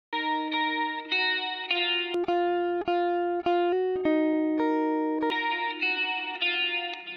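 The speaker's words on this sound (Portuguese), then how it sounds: "Eu vou mostrar para vocês o som de linha da guitarra." Clean direct-input electric guitar played through an Audient EVO audio interface: a sequence of sustained, ringing notes and chords, played alone at steady loudness with no voice.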